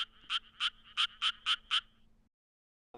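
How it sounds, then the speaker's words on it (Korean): Seven quick, evenly spaced Japanese tree frog croaks ring out in a fast pulsing series, fairly close and clear, followed by silence. "그동안 비슷한 줄만 알았던 개구리의 노랫소리."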